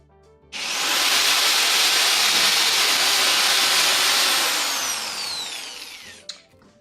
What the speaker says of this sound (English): So I'm gonna go ahead and drill one hole this side of the world.